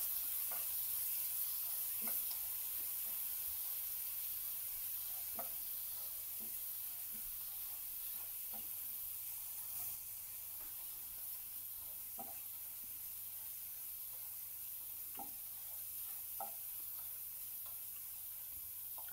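Chopped onions fry in a pan for papdi gathiya curry, giving a faint, continuous sizzle with scattered soft ticks and pops over a steady low hum.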